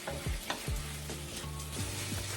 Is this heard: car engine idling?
no